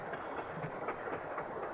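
Steady rumble of a passenger train running on rails, a dense continuous roar with faint rhythmic clatter throughout, heard from inside the carriage.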